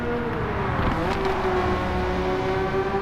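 A Porsche 993 race car engine in Gran Turismo 7 during a European 600 Sunday Cup race drones at a steady high pitch, its tone rising slightly as it holds its revs, loud and continuous with no speech.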